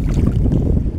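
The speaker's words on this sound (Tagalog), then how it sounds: "Medyo maalon lang sa mahangin." Strong wind buffets the microphone over choppy seawater in a shallow coastal area where clams are gathered, a dense continuous roar with no clear individual wave breaks.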